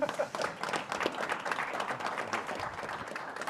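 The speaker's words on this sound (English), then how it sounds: "someone was already clapping" Audience applause and clapping at a democracy conference panel at FIU's Jack Gordon Institute in Miami, dense and steady with scattered individual claps standing out.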